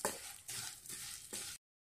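Vermicelli frying in ghee in a pan for semiya pudding, a close crackling sizzle broken by a few stirring pulses, ending abruptly.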